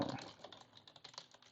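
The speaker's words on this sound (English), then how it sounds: "That's too much typing." Rapid, irregular clicking of computer keys being typed on, close and fairly quiet, with no voices.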